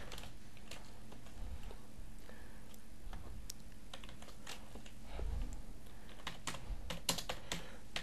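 Python code typed on a computer keyboard: irregular bursts of crisp, close key clicks with short pauses between, alone with no talk.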